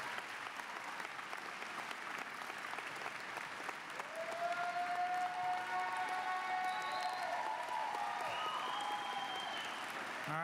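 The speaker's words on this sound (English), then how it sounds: "Now I want you to applaud your family, friends, spouses," Graduates at a fall commencement ceremony applaud their family and friends, a broad, steady wave of many hands clapping that swells louder partway through, with a few scattered cheers or voices rising above it.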